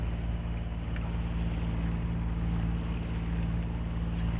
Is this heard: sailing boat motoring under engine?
yes